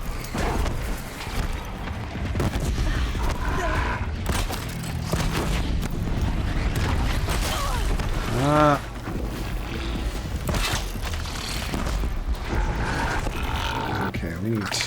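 Enemy fire aimed at the player in Horizon Zero Dawn, scattered booms and mechanical shots mixed with roaring machine-creature noises, heard under frequent talking by a player throughout.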